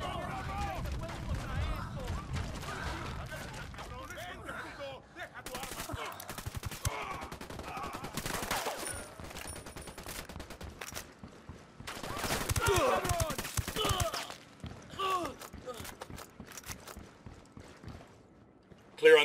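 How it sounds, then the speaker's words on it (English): Gunfire in Ghost Recon Wildlands, in Agua Verde province: scattered shots and fusillades with a heavier burst midway, mixed with ambient game noise and faint voices. "I'm shooting these fuckers."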